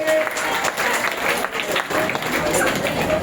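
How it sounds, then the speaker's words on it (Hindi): A crowd applauding steadily and loudly for parents at a student awards event, a dense wash of clapping with no pauses. "जोरदार तालियां अभिभावकों के लिए।"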